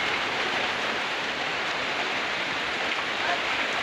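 Rain falls outdoors on a hot day, a constant close hiss of steady drops that stays even throughout, with no speech.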